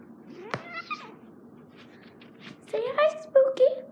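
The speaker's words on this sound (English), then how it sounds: "So that's my cat." A pet cat meows several times, close and fairly loud, with drawn-out, rising cries grouped near the end after a quieter opening call.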